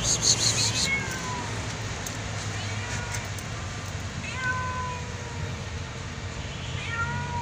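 A stray cat living under a container van meows several times over a steady low rumble, with faint talking in the background.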